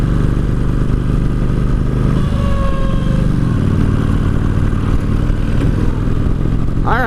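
A 2003 Kawasaki Vulcan 1600 cruiser with engine trouble rumbles steadily while being ridden, its loud, rough engine note and clatter continuous throughout, with a brief shift in pitch midway.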